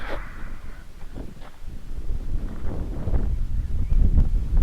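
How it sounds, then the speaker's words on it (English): Steady gusty wind buffets the microphone outdoors, a low rumbling roar that grows stronger toward the end. "It's getting a bit windy"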